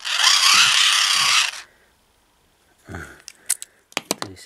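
A hand-crank mini emergency charger generator drives a small laptop fan, giving a loud whirring grind for about a second and a half, then silence, then scattered clicks and ratcheting of the crank mechanism.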